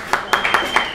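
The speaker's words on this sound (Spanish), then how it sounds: "Un aplauso, por favor." Audience applause at a talk on cancer myths and legends, a short burst of clapping with several sharp claps standing out over a steady crowd patter, fairly close and moderately loud.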